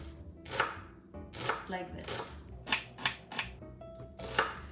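A knife chops shallot into small dice on a cutting board in a kitchen, several sharp irregular taps close up, with a few brief spoken words.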